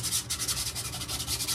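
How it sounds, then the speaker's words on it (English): Rough sandpaper scuffing the edges of a 3D-printed Star Wars pit droid head, a quick regular rhythm of short back-and-forth rasping strokes, close and clear with nothing else over it. "I'm going to take a little rough sandpaper and I'm just going to kind of rough up the"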